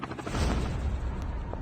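Rapid gunfire in a Call of Duty Mobile match aimed at a helicopter, heard as a dense, rumbling barrage of shots with heavy low-end booms, continuous and fairly close.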